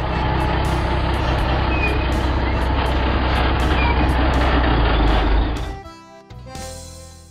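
An animal transporter truck rumbles steadily and loudly close by, its engine drone broad and constant for about five seconds before fading, followed by a few short beeps and hisses.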